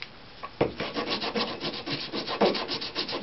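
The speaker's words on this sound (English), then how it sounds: "I'm just going to sand in the middle like that and work toward the end" Steady scratchy rubbing of sandpaper on a wooden violin sound post, repeated strokes back and forth at close range, with a couple of harder strokes standing out.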